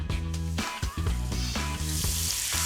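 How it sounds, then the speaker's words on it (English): Sliced mushrooms sizzle in olive oil in a hot frying pan, a bright steady crackle running the whole time beneath tonal background music. "Then add olive oil to a hot frying pan."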